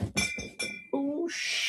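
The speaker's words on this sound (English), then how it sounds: "I almost knocked the glass bottles over." Glass bottles clink and ring against each other as they are nearly knocked over, several quick bright knocks in a short burst, close and fairly loud, followed by a rustle.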